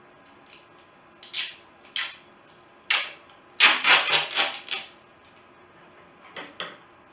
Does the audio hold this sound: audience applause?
no